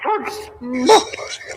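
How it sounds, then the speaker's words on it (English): A small dog gives a couple of short, high yips and whimpering barks close by, mixed with voices. "You hear that little bark?"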